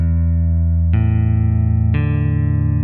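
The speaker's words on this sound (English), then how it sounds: "take your fingers off the strings and play each note one by one to check the tuning." Open strings of a left-handed guitar are plucked one at a time for a tuning check, three clear notes in about three seconds, each ringing on with sustained tones and no talking.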